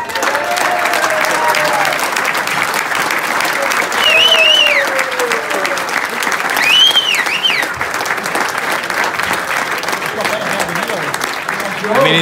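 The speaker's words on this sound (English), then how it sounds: "Everybody, huge round of applause for your YouTube winner 2019, Mike Dawson." Sustained, loud applause from a crowd at an amateur golf day prize-giving, clapping steadily for the tournament winner for about twelve seconds, with cheers and whistles rising above it and a few voices calling out.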